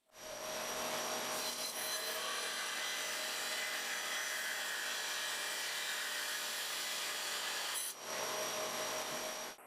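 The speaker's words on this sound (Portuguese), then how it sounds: "levei tudo para a serra de fita para começar a fazer um pouco de serragem" A band saw cutting through wooden boards for a braided cutting board, a loud continuous whining rasp that starts abruptly, runs steadily for several seconds with a short dip, then stops.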